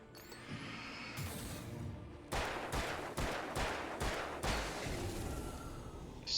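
Revolver shots from the video game Alan Wake, six sharp evenly spaced blasts fired in quick succession at close range, preceded by quieter ambient game sound and no talking.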